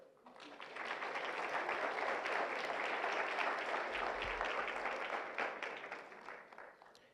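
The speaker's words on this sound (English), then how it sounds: "please join me in expressing our deepest gratitude to President Nishimoto with a big round of applause." An audience at a global entrepreneurship summit applauds President Nishimoto, a broad, fairly faint wash of clapping that builds, holds steady for several seconds and then tapers off.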